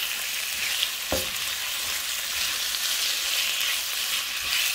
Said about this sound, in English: I'm loving the sizzle.